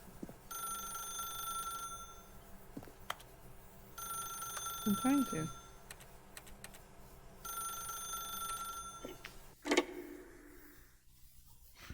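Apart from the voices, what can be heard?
telephone ringing in video game Stanley Parable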